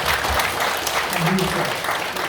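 An audience at a Korean Buddhist missionary training ceremony breaks into continuous, close applause, with a brief low voice murmuring through the middle of the clapping.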